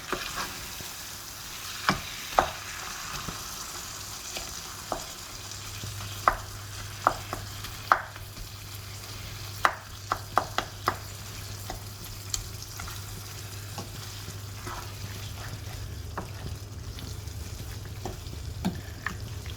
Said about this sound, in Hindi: और इसको आराम से अच्छी तरह मसाले में मिक्स करूंगी